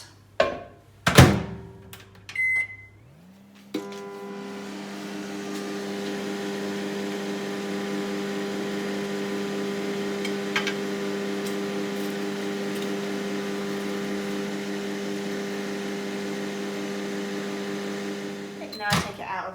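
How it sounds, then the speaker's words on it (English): A microwave oven softens a cookie dough ingredient: a few thunks of the door and buttons come first, then a steady loud hum runs for about fifteen seconds and ends with a beep. "we're going to put it in the microwave for 30 seconds"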